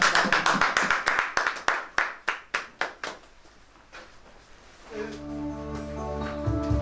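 A church congregation claps in a steady rhythm of sharp, loud hand claps that thins out after a few seconds, with an organ or keyboard chord coming in at the end.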